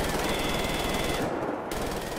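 Sustained machine gun fire in the video game Wolfenstein: The New Order, a dense, continuous rattling burst that briefly cuts out before resuming, loud and up front.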